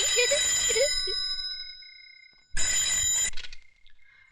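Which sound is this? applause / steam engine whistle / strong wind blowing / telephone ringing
telephone ringing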